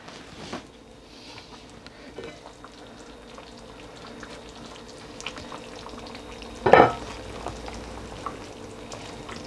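A pot of haleem stewing after about an hour and a half, with soft, steady bubbling and a faint simmer, then one brief clatter as the lid is lifted off, with no talk.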